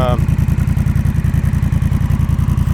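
Honda Rebel 1100 motorcycle fitted with a Coffman's Shorty exhaust, loud and close with a steady pulsing engine beat held throughout, each firing pulse distinct in a rapid even rhythm.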